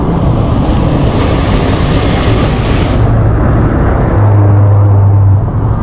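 Heavy vehicles churning through a flooded street in Karachi during rain, a loud continuous rush of water and engine rumble close by, with a steady low engine drone near the end.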